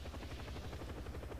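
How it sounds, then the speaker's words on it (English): A helicopter flies in the Call of Duty Black Ops video game, its rotor producing a steady low rhythmic chopping drone that stays constant and moderately close throughout the brief stretch. "I get to fly a helicopter again"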